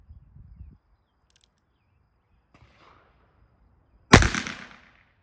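A Heritage Rough Rider .22 WMR revolver loaded with CCI Maxi Mag ammunition fires one sharp, loud shot outdoors. It follows a few faint handling clicks and rustles, and a short echo tails off afterward.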